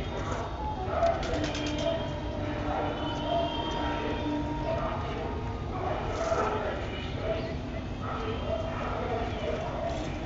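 Madrasi pigeons sitting on eggs, soft cooing repeating at intervals through a steady background hum, with a person speaking nearby.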